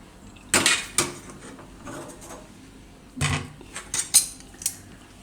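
A pot of cauliflower soup is lifted off a gas stove in a home kitchen, giving a few sharp metallic clanks and clinks close by, with quieter scrapes between them.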